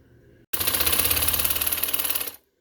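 A sewing machine stitching blouse fabric, a quick, even mechanical rattle that starts abruptly, runs for about two seconds at close range, then stops, with no talking.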